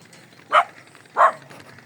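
A dog in a Punjabi village barks twice, two short, sharp woofs about two-thirds of a second apart that stand out over quiet background noise.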